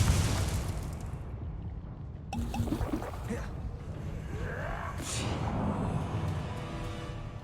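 A Bombarda blast spell goes off in Hogwarts Legacy, a heavy booming burst with a rumbling tail, followed by swooshing magic effects and scattered game noises at moderate loudness.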